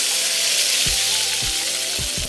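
Spice paste frying in hot mustard oil for an Assamese home-cooked thali gives a steady, loud sizzle, broken by a few short spoon scrapes against the pan.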